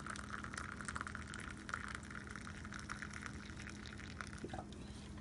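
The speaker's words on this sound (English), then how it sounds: "Pour a cup of coffee." Water pours from a percolator into a cup in a steady, fairly soft gushing stream that runs for several seconds without talk.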